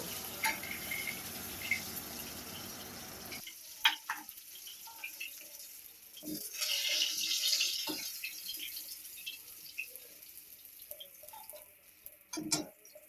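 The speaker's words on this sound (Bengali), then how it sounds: "এরপর মাছ ভাজা তেলের মধ্যে পেঁয়াজ কুচি কাঁচা লঙ্কা দিয়ে ভাজা হতে দিলাম" Chopped onion and green chilli fry in oil left from frying bhetki fish, first with a close, steady sizzle and then a quieter crackle broken by scattered clinks and stirring clatter.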